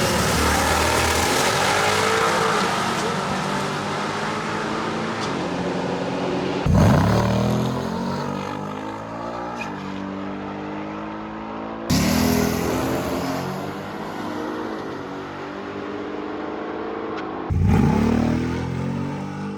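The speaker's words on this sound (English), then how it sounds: "hook good enough to run low 9-second quarter-mile times like this?" A drag car on stock tires roars down a quarter-mile strip, its loud engine blare repeatedly surging with sharp gear-change bursts at a few points.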